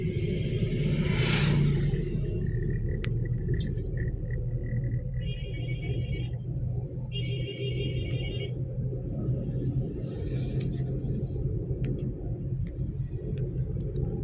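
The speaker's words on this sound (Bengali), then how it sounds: "দেখছো গাড়ির সাউন্ডটা এখন মিষ্টি হয়ে গেছে।" A car's engine running smoothly on a highway during a driving class, a steady low rumble and road noise throughout with a couple of brief electronic beeps partway, no talking.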